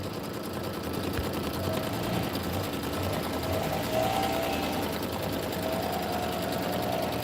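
A sewing machine runs steadily for the whole stretch, stitching a quilting stitch in black thread for a Kimberbell Home Sewn tiling scene, a continuous close mechanical whir with fine rapid needle ticks and no pauses.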